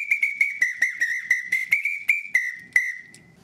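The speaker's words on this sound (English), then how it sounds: "little tiny whistles, Brazilian whistles" A small Brazilian percussion whistle is blown in a quick, steady rhythm of sharp, shrill pulses, loud and close, ending on one longer blast.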